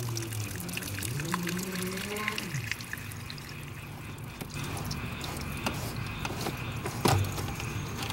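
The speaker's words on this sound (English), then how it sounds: "Just let this drain so we don't get water all over the pump." Water drains from an Intex sand filter pool pump, pouring and trickling steadily, with a voice briefly audible at the start and faint knocks in the background.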